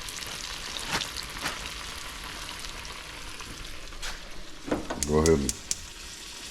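A pan heats with oil for frying breading at an outdoor catch-and-cook of crappie fish, giving a steady, even sizzling hiss under a man's speech, with a brief louder rattle near the end.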